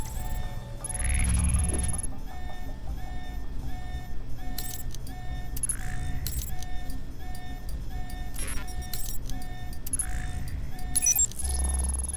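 An alarm sounding in the Alpha Protocol video game, with repeated steady tonal beeps continuing through the whole stretch over a busy background of game sounds and low rumble.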